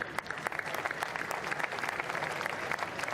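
A room full of people claps steadily, a dense patter of applause with no break.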